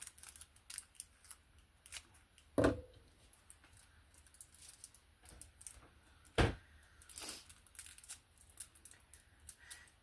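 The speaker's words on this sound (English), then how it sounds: "We're going to cut open our straw." Scissors snip open a miniature straw, giving two sharp, close cuts several seconds apart against a quiet room with faint small rustles.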